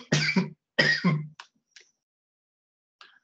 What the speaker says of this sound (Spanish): La tos que no se va.